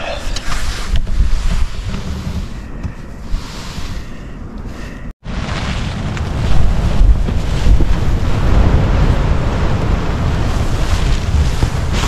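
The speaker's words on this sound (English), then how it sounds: "A little rough out there, a bit windy" Strong gusts roar across the microphone on an exposed mountainside, Slieve Meelmore, in wind and rain with rough sea surf below, a loud continuous buffeting that dips briefly once and then returns just as hard.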